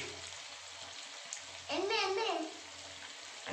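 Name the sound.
bottle gourd kofta balls frying in oil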